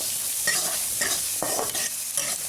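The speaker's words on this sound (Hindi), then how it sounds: "मटर थोड़ी सी फ्राई हो रही है" Peas frying in a pan with salt, a loud continuous sizzle broken by repeated stirring strokes in an uneven rhythm, close up and without voices.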